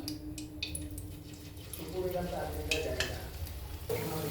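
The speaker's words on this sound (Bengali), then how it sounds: "তেল গরম হচ্ছে, এবার একটা করে ছাড়তে দেখতে থাকি।" Pumpkin flower fritters in batter go one by one into hot oil on a low flame, giving a soft steady sizzle with small splashes and stirring under quiet talk.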